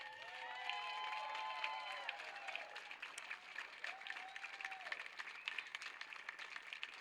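A crowd at a wheelchair tennis doubles masters event claps and cheers for the runners-up, steady applause at moderate distance with a few high whistles and voices rising above it.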